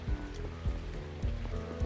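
Steady rain falls in the video game Lacuna, a continuous hiss of drops under low rhythmic thuds of footsteps or machinery, with no voices.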